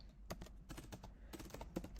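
Rapid clicking of keys on a computer keyboard, typed in quick irregular bursts close to the microphone, fairly quiet with no talk.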